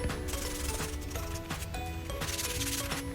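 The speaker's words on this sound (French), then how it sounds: "je ponce également le bas de la table" Sanding the underside of a rounded bean-shaped DIY coffee table, a steady, continuous abrasive rubbing that stays loud and close for the whole stretch, with no talk over it.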